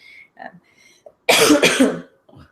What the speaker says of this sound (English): I can't believe you're still coughing.